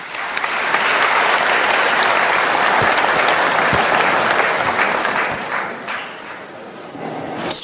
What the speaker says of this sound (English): Let's welcome distinguished Madam Sri Hudiastuti with a warm round of applause.